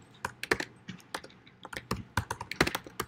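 Someone types on a computer keyboard at a steady but unhurried pace, with clear near keystrokes and a few louder taps in a quiet room.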